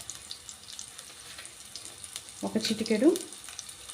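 Ingredients for gongura pickle fry in oil with a soft, low sizzle, joined near the end by a brief louder burst of stirring or crackle while someone speaks quietly.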